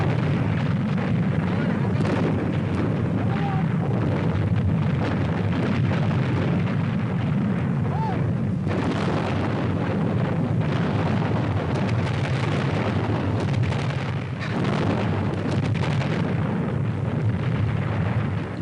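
Artillery guns firing and shells exploding in archival footage of the 1965 Pakistan–India war, a dense, continuous barrage of loud booms and rumbling blasts with no pause.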